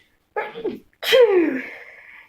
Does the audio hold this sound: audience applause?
no